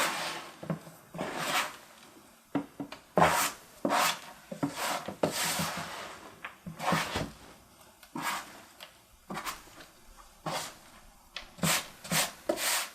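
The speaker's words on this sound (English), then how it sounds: "I'm going to move the wet side to the dry side" Wet guinea pig cage bedding is scraped and shoved from one side of the cage to the other by gloved hands, repeated close rubbing and scraping strokes in an uneven rhythm, with no talk.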